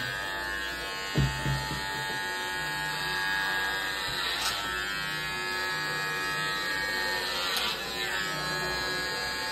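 Electric clippers shave a head in a barbershop, a steady close buzz running throughout with a brief louder bump near the start.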